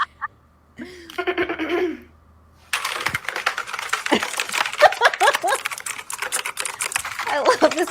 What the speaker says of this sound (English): I love this manic typing.